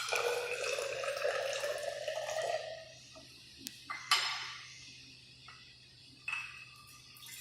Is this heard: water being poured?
yes